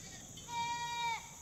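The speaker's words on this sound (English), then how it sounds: "It's my goats." Goats bleat on a farm, one loud, drawn-out, wavering cry rising over a quieter bleat at the start, heard from a short distance with faint background noise.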